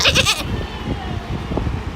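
A goat gives one short, nasal bleat right at the start, then only faint background noise follows.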